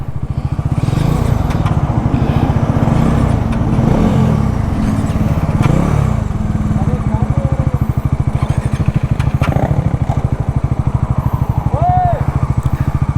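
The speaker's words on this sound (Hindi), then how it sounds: "तो अब मैं चलाऊंगा NS 400।" A Bajaj Pulsar NS400 motorcycle being ridden, its engine giving a steady, loud, close thrumming drone that rises slightly, with someone talking over it throughout.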